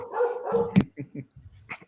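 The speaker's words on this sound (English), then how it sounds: "dog wants to say hi" A dog barks several times in the background of a live mock draft broadcast, short sharp barks and yips at medium distance mixed with quieter whines, over faint room noise.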